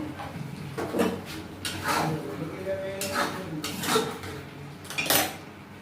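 Pot of bottle gourd curry lifted off a gas stove, with a series of metallic clanks, scrapes and knocks of cookware and utensils close by, and a voice speaking faintly underneath.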